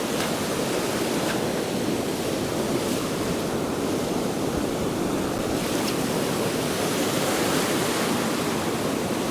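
Sea surf rolls onto a West Wales beach in a steady, broad roar of breaking waves, constant and full with no voices.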